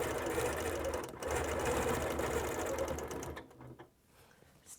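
A sewing machine quilts fabric without batting, a loud, continuous close whirr of rapid needle strokes that stops abruptly near the end, leaving a few faint clicks.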